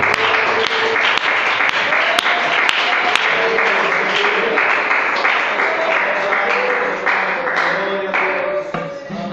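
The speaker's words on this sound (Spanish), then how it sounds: "Aplauda su nombre," A church congregation applauds loudly and continuously in praise, with sharp individual claps standing out over the dense clapping while a voice speaks over it and sustained organ-like tones run underneath.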